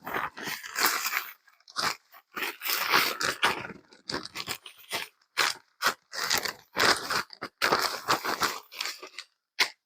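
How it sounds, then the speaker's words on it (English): Okra pieces tumbling with breadcrumbs inside a sealed bag, shaken in repeated rustling, crunchy bursts with short pauses between, close and fairly loud with no talking. "seal this up and give it a good shake"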